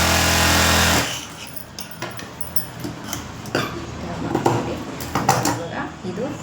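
A sewing machine runs straight stitching along a blouse neck, rapid mechanical clatter in short uneven bursts after a loud opening second, close by with no speech over it.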